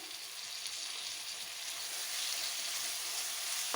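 Finely chopped tomato sizzles with lightly browned onions in a pan for a stuffed capsicum dish, a steady moderate frying hiss that swells slightly near the end, with no voices.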